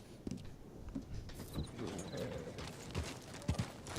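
Horse hooves clip-clop in the video game Red Dead Redemption near Wallace Station. The hoofbeats are quiet and uneven, a few soft thuds scattered over several seconds against low background noise.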